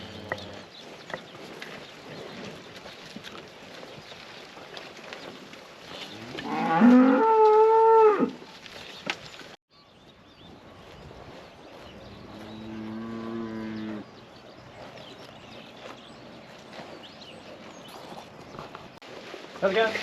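Heifers and cows moo on a farm as the herd is brought home from grazing, with a few drawn-out calls rising over low rural background noise and occasional hoof sounds.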